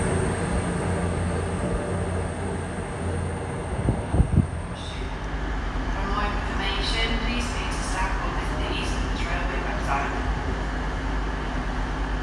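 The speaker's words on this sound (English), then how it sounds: "We've got a class 222 Meridian here at platform 2 of Leicester station" A class 222 Meridian diesel train stands at platform 2 of Leicester station, with a steady low engine rumble throughout and a brief louder knock near the middle while people talk nearby on the platform.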